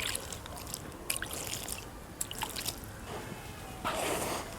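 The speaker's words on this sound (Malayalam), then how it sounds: "അപ്പോൾ കുറച്ച് വെള്ളം ഒഴിച്ചൊന്ന് ഈർപ്പമുള്ളതാക്കാം" Water is poured over coco peat in a basin while preparing a tomato seedbed, with soft splashing and dripping that rises near the end, close and fairly quiet.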